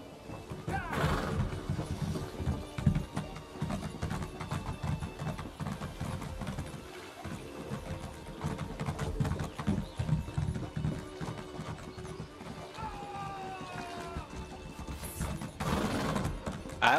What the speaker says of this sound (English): I want that horse